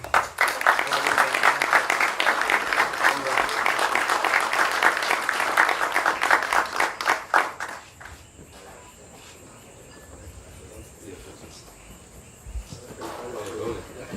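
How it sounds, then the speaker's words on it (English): An audience at a security services awards ceremony claps loudly and steadily for about seven seconds, then the applause stops abruptly, leaving a quiet room with faint background hiss and a light stir near the end. "Please applaud Corporal King."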